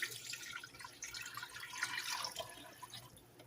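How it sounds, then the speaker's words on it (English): A quart of water poured into a pot of chicken drumsticks for boiling, a close, soft splashing trickle that runs continuously and unevenly for a few seconds. "I'm going to add, this is a quart of water."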